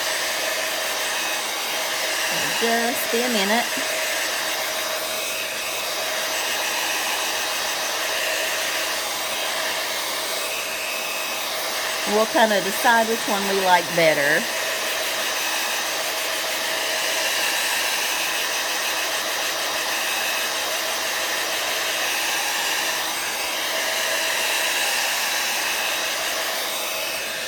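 A hair dryer blows steadily on stamped paper cards for a seahorse card, its constant whoosh running nearly alone throughout, with brief soft talk over it.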